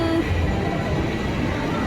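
Toy circus train ride at the Wonderla amusement park, a steady close rumbling roll of small wheels and carriage running continuously without pause.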